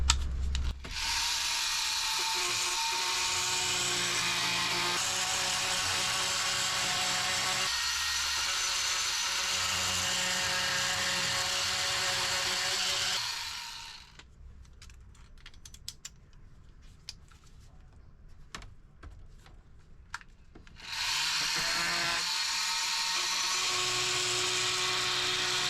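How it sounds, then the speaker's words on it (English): Fein oscillating multi-tool cutting a wiring trough inside a boat interior, a harsh steady buzz that drops away midway and then resumes, close and loud. "the easiest way I can think of doing that is by cutting a trough with my fine tool"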